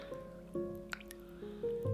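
A plant cutting is dipped into a glass of water indoors, giving a few soft, close drips and small liquid splashes spaced through a quiet moment.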